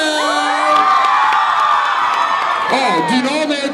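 A lively crowd, children among them, shouts, whoops and cheers in a warm welcome for an arriving singer at an event, loud and continuous throughout, with voices overlapping.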